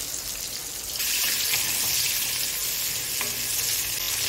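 Panch phoron, whole garlic cloves, onion and cumin seeds sizzle steadily in a pan, a close, continuous frying hiss that grows louder after the first second as the spices are stirred.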